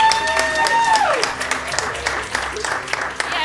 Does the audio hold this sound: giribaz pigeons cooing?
no